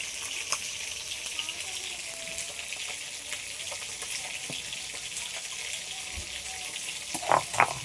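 Potatoes frying in hot oil in a home kitchen, a steady soft sizzle and crackle running throughout, with a few sharper pops and clinks near the end.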